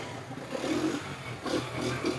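A used Honda 125 motorcycle idles steadily with a low, uneven engine rumble, close by and moderately loud, with no talk.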